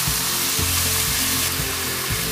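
Carrot, French beans and cauliflower florets sauté in a pan for veg korma, giving a steady broad sizzle with rhythmic scraping stirs about every half second, close and continuous, without speech.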